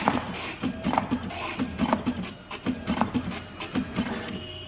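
A PLQ35 passbook printer prints out its settings, its head chattering in quick repeated bursts of mechanical buzzing with brief pauses between passes, close and steady with no talk.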